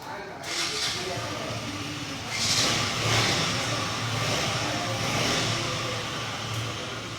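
A KTM Duke 125 motorcycle engine starts inside a showroom during a launch event, rising into a steady rumble and hiss amid a noisy crowd, with voices present throughout.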